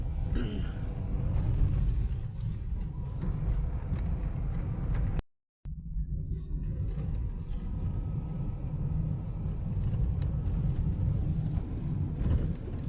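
A car speeding along a road, with steady loud low rumble and road roar throughout, briefly cut to silence midway before the same driving noise resumes.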